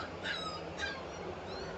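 At a kennel shipping area holding puppies such as teddy poodles, Alaskan malamutes, golden retrievers, Samoyeds and German shepherds, two quick high yips rise above a steady whoosh of large fans, quiet and a little distant.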